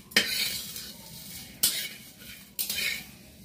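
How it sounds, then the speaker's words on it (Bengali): Whole spices fry in a kadai for Bengali aloo dum, with a soft sizzle broken by three sharp metal spatula scrapes as they are stirred, close and with no talk. "এটা আগে কড়াতে ভেজে নিচ্ছি।"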